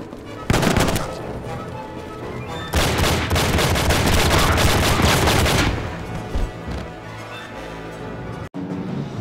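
Gunfire in the video game Enter The Matrix: dense, loud bursts of rapid shots in two long volleys, with a short pause between them, then fading into scattered echoes and quieter background noise.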